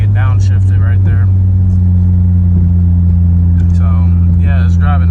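A Jeep Cherokee climbs a hill with a steady low engine drone inside the cabin, a smooth continuous hum that stays loud throughout while someone talks over it.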